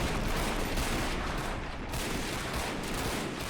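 Rifle and machine-gun fire in a video game battle set in a fictional 1912 American invasion of Canada, dense continuous crackling volleys with no pauses, loud and close, without speech.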